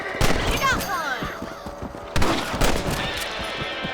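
Rifle shots in the Red Dead Redemption video game on PC: several sharp reports and bursts, close and loud, mixed with game sound effects over roughly four seconds.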